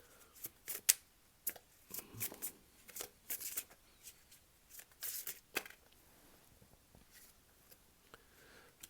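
Tarot cards being shuffled during a reading, a series of soft papery riffles and flicks arriving in irregular bursts, close and fairly quiet, with no talking.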